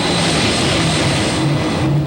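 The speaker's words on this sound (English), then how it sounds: "the plane arrived back at the Key West Naval Air Station" A plane arriving back at Key West Naval Air Station after an aeromedical evacuation flight, its engines giving a loud, continuous, close drone that fills the whole stretch without pause.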